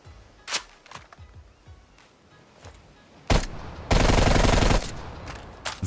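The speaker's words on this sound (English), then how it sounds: "Very fast fire rate, pretty fast reload too. I wasn't expecting that from such kind of a chunky looking gun." Sustained automatic rifle fire from a QBZ in Call of Duty Cold War: scattered single shots and short bursts early on, then a loud, dense burst of rapid fire lasting about a second near the end.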